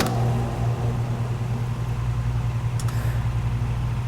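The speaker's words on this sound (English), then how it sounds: "We check our rotation by watching the fan inside the blast motor spin." An IMPACTS S270E-75R shot blaster's blast motor runs with its fan spinning, giving a steady, loud mechanical hum with a constant low drone throughout and a brief higher rattle partway through.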